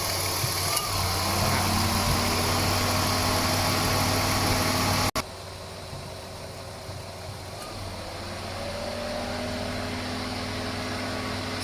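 A Ford Escape V6 idles steadily after an air conditioning repair, a low, even engine hum with a constant drone; a sudden click midway drops the level, then the idle continues slightly quieter, rising again gently near the end.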